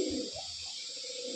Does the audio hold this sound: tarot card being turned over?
no